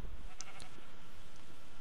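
A sheep bleats faintly in the Minecraft Hexxit modpack, a couple of short, thin calls early on over a steady low background hum, with no one talking.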